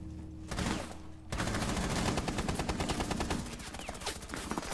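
Rapid gunfire in the tactical shooter Rainbow Six Siege, with a short burst followed by a long run of dense, loud automatic shots and scattered impacts, no talk.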